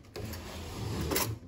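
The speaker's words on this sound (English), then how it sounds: "This drawer is a bit broken." A slightly broken kitchen drawer in a Barbados hotel room slides open or shut, a short wooden rubbing scrape lasting about a second and a half, fairly close and alone.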